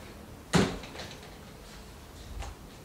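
A wooden bedroom wardrobe door from a furniture workshop swinging open, with one sharp close knock followed by a fainter soft bump a couple of seconds later in a quiet room.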